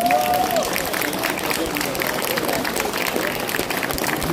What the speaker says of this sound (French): On peut quand même les applaudir très très très très fort.